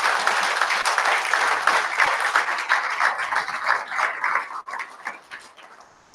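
A live audience at an event applauds, a dense, sustained wash of clapping that holds steady for several seconds and then thins out and fades near the end.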